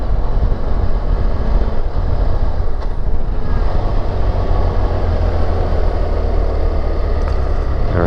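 A BMW F 800 GS motorcycle is ridden along a road, its engine and rushing wind making a loud, continuous broadband roar that holds steady from start to finish.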